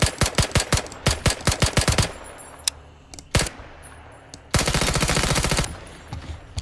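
An SKS rifle in the game Incursion Red River fires a rapid string of sharp, loud shots, then a few single semi-auto shots after a pause, followed by a dense burst of continuous fire that trails off.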